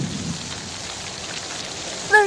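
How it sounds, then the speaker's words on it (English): Steady rain falls throughout a thunderstorm, with a low rumble of thunder at the start and a brief sharper sound near the end; no one speaks. "A thunderstorm. And maybe a little rain. Maybe lightning."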